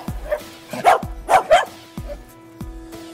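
Several dogs bark in bursts on a cooking show set, loud and close, with yips and whimpers between barks and some background sounds.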